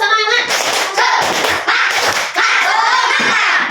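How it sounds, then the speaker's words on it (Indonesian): A classroom of children does a rhythmic spirit clap, tepuk semangat, in a series of loud, close hand-clap bursts filling the whole few seconds, with some children's voices mixed in. "Oke, perhatikan, tepuk semangat."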